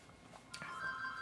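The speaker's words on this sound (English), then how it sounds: "sorry my phone's ringing" A mobile phone rings in a quiet room, its electronic ringtone starting abruptly and holding steady, moderately loud and close, with no talk over it.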